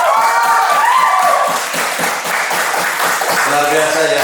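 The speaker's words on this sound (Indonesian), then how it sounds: "Tepuk tangan buat Ruby." An audience at a stand-up comedy event claps loudly and steadily for a few seconds, with a voice speaking over the applause toward the end.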